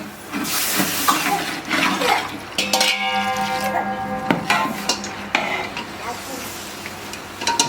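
Chicken-cooking water poured into a pan of masala for chicken bonda and stirred, with a close, continuous sizzle and scraping stir sounds, a brief splashing pour midway, and no talking.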